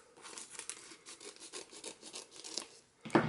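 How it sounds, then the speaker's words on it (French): Scissors cutting open a paper-wrapped package of stationery, a faint, steady run of rasping, crinkling snips and rustles, with a louder paper crackle near the end. "Donc je vais ouvrir avec mon ciseau."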